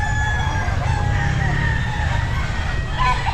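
A rooster crows over a steady low rumble of background noise at a pet market, its call drawn out and moderately loud.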